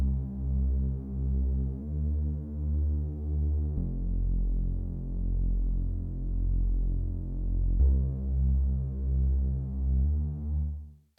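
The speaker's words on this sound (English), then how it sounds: "just play the bass line at a lower octave" Deep synth bass line with a buzzy, filtered sawtooth tone, playing sustained notes that pulse rhythmically and shift pitch every couple of seconds.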